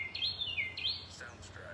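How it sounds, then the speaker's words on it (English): Birds singing outdoors during a stretching session, a few faint, distant high chirps and whistled tweets over a soft low background hum. "The birds are singing."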